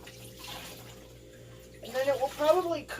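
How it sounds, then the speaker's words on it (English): Wet yarn is lifted out of a dye water bath, sloshing and streaming water near the end, following a quieter stretch of background hum with faint talk. "let me get the yarn out of the water bath over here."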